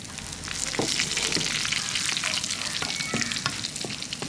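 Dried red chilies, onions and garlic fry in hot oil with a dense, continuous sizzle and scattered crackles and spatters, close and fairly loud, with no talking.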